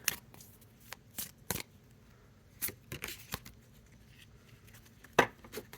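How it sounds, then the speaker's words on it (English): A deck of oracle cards is shuffled close by, giving sharp, irregular riffling bursts and soft slaps scattered across a quiet background with no talking. "I'm just shuffling over here to the side."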